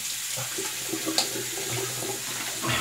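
Cold water runs steadily from a bathroom tap into a sink during a wet shave, a continuous close hiss and splash with a few small clinks.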